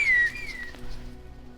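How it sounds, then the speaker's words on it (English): A short falling whistle rings out in the video game Brothers: A Tale of Two Sons, clear and fairly loud at first, then fading into soft ambient game sound. "What are you whistling at?"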